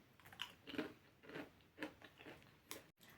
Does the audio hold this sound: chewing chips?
yes